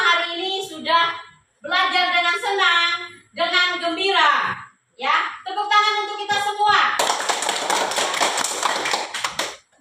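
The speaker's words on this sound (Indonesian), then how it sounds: "Ya, tepuk tangan untuk kita" Children at a school lesson clap their hands in a burst of quick taps near the end, after a voice speaks in several short phrases.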